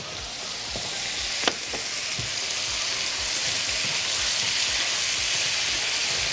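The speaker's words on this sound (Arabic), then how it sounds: "هنشوح الفراخ مع عدم التقليب كتير، تمام، عشان ما تجيبش ميتها" Chicken sautéing with minced garlic in hot oil for a spicy chicken dish: a loud, continuous close sizzle, with a few utensil knocks early on and no speech.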